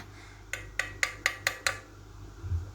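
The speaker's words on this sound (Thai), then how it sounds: "ต้องใช้ค้อนอะเคาะจากด้านบนลงมาให้มันต่ำลงนะคะ" Six sharp metallic taps of a small hammer striking a kalimba tine from above to lower its pitch, evenly spaced about a quarter second apart, each ringing briefly, close and clear with no talking.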